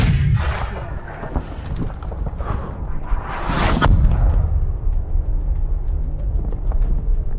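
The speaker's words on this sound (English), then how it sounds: "Meanwhile, Russian artillery opens fire heavily." Heavy, continuous rumbling booms of Russian artillery fire with dense low thuds and occasional sharper blasts, loud and sustained throughout.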